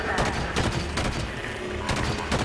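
Rapid gunfire from a Halo 5 firefight on Legendary difficulty rattles in dense bursts of shots and impacts, loud and close, with brief voice chatter mixed under the shooting.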